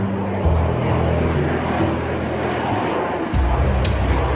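A MiG swept-wing fighter jet gives a steady, loud engine roar with a dense broadband rumble throughout, plus a sudden shift in tone near the end.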